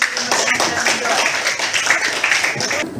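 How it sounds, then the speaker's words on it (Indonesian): Scattered clapping from a small audience, steady and moderately loud across the whole stretch, with some voices mixed in. "Oke, tepuk tangan dulu."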